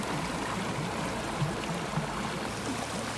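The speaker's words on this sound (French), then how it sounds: "La rivière est bien calme." A calm small river in France, used for gold panning, flows steadily with a soft, continuous trickle and gurgle, close and even throughout with no voices.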